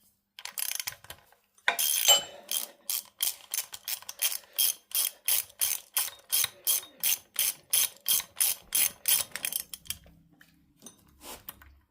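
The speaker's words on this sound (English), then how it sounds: "once we get all the bolts out. There's quite a few and they're all different sizes." A ratchet works bolts out of a Talbot Express engine during a rebuild, with a brief burst and then a long run of steady, evenly spaced clicks close up that slow and stop near the end.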